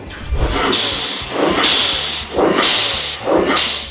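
A GMB VTA blow-off valve on a Mercedes C43 releases air in four repeated sharp hissing whooshes, each rising out of the engine note as the throttle is lifted, loud and close.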